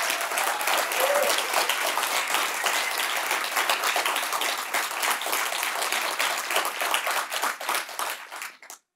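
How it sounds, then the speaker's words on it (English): Sustained audience applause at a poetry awards reading, a dense wash of many hands clapping for several seconds before tapering off and stopping abruptly. "Can we have another round of applause for Diana, please?"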